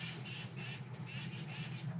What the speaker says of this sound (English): The birds are over there fighting about if it's okay to use loops or not.